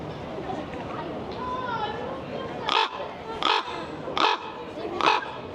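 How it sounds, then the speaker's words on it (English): Bird calls outdoors near a castle in London, four loud, harsh crow-like caws spaced about a second apart over steady outdoor chatter and background noise. "Such a cool bird, dude."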